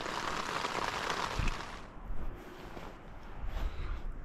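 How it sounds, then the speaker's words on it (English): Rain drums on a tent at a wild camp in the Lake District, a dense close patter that eases after a moment into softer scattered drips and low rumbles. "It was raining, but not like this. A bit of heavy rain."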